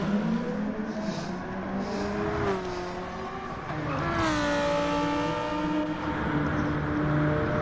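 Race cars, including a Lamborghini, in a sim racing game: engines rev and shift with rising and falling pitch sweeps, one car climbing sharply partway through, loud and continuous.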